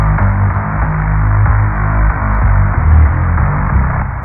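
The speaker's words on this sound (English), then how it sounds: "the synth sound I've put together in Vital is just a strong, solid bass note, as you can hear." A strong, solid synth bass note built in the Vital synthesizer, drenched in big reverb, sustaining steadily throughout as a deep, humming drone with no other sounds.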